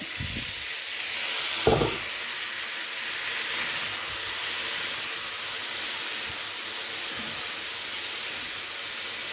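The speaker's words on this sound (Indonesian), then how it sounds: "Kita masukkan pasta yang udah direbus selama 8 menit" Boiled pasta hitting a hot pan with shrimp and garlic: a soft thud, then a steady, moderately loud sizzling hiss that continues evenly.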